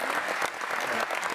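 Dense, steady applause from a conference audience welcoming a guest, loud and continuous with no voices on top.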